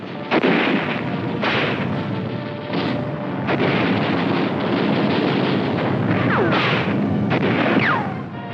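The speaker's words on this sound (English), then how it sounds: "Steadily, MacArthur's forces hammer fortified nests throughout the city." Gunfire and artillery from street fighting in Manila in 1945, with rifle shots and heavy blasts cracking over a dense, continuous roar of battle noise at loud, steady level throughout.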